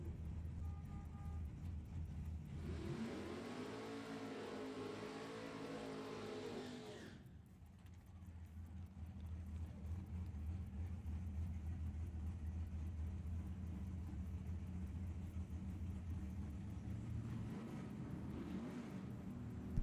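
A Camaro drag race car makes a run, a loud rising engine roar that builds and holds for several seconds before cutting off sharply, leaving a steady low rumble of idling engines and crowd ambience in the distance.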